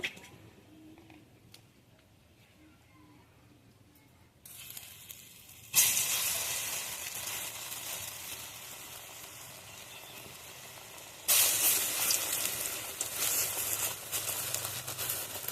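Masoor dal dumplings fry in oil with a loud, close, crackling sizzle. The sizzle swells sharply each time a fresh batch is dropped into the pan and builds from a quiet start to a strong, bright hiss.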